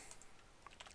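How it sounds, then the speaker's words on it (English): A quiet key-press sequence on a computer keyboard, the Control V paste shortcut, with a few faint clicks followed by a closer cluster of taps near the end. "I just clicked Control V on my keyboard."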